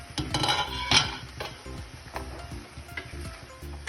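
Jackfruit seeds cooking with a little water in a pot, stirred now and then: metal spoon clanks and scrapes against the pot over a low bubbling sizzle, louder at first, then settling into lighter strokes.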